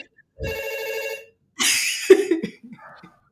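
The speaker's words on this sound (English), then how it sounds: "Just every phone's ringing now." Telephones ringing, a near warbling electronic ring followed by a harsher bright ring burst, with people talking and a cough mixed in.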